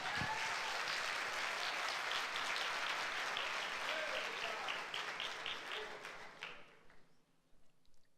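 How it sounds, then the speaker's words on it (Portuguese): A church congregation at a Sunday service applauds steadily, loud and full for several seconds, then fades out toward silence. "Vamos dar um aplauso a Jesus por isso?"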